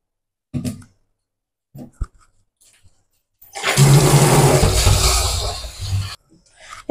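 Water is poured onto washed rice in a bowl for soaking, a close rushing splash lasting about two and a half seconds after a few light handling knocks.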